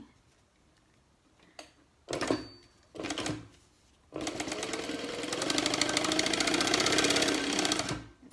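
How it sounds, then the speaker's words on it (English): A sewing machine stitches a sturdy mini wallet made without interfacing: two short bursts of rapid needle chatter, then a long continuous run of stitching, close and clear with no talk. "I'm just going to stitch down there now"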